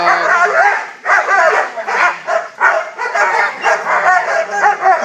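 A young protection dog grips a hard sleeve, giving close, continuous yips, whines and whimpering cries in uneven bursts for several seconds.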